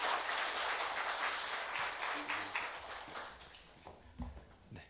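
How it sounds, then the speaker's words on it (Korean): Church conference audience applauding a visiting missionary before an evening lecture: dense, broad clapping that holds steady, then thins and fades toward the end, with a few scattered claps trailing off. "여러분 위에서 한번 뜨겁게 박수해 주시고"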